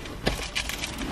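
A set of keys jangles close up in a quick burst of bright metallic clinks and rattles, alone without talk.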